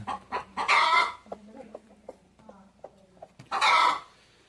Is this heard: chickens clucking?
yes